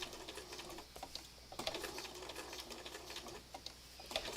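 A sewing machine stitches fabric scraps along earlier stitching, a faint, quick mechanical chatter that starts and stops in short bursts, the needle rattling rhythmically at low volume.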